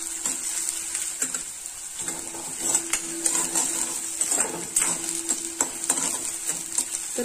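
Grated garlic fries with onions in a pan for masala Maggi noodles: a steady, moderate sizzle broken by frequent light scraping and tapping of a spoon being stirred.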